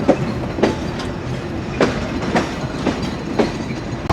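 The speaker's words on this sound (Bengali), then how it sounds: "রূপসা এক্সপ্রেস ট্রেনটি ঝিনাইদহ জেলার মোবারকগঞ্জ রেলওয়ে স্টেশন ছেড়ে চলে যাচ্ছে" The Rupsha Express pulls away from Mobarakganj railway station in Jhenaidah, its wheels beating a steady, rhythmic clickety-clack over rail joints under a continuous rumble, with no voices.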